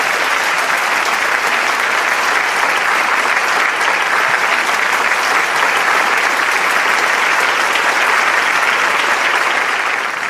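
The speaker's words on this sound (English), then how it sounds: "round of applause, everyone." Sustained audience applause fills a hall at a youth blessing festival, a dense, even wash of many hands clapping at close range, holding steady throughout before easing slightly at the very end.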